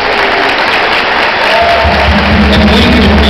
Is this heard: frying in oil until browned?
no